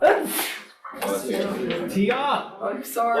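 A single sneeze bursts out in a classroom near the start, followed by a student's brief spoken apology and ongoing chatter.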